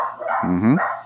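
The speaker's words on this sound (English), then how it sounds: "I am so sorry for the dogs barking." Dogs barking indoors during a conversation, a short burst of loud, close yelps and barks that swell and fade over about a second, with faint speech beneath.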